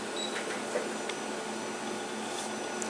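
A label and sticker cutting machine runs steadily through a cut, giving a continuous mechanical whir with faint intermittent clicks, close by and alone.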